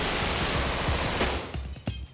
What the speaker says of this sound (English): They are semi-automatic assault rifles that can shoot over 10 bullets every second.